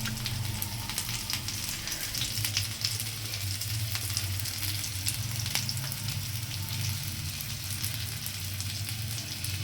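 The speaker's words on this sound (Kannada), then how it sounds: "ಪನ್ನೀರ್ ಸ್ಟಿಕ್ಸ್ ಅಂತೆ ನೋಡಿ ಫ್ರೈ ಮಾಡಿ ನೀವು ಕೂಡ" Paneer sticks frying in a pan, a continuous dense sizzle with a low bubbling rumble underneath, steady and close throughout.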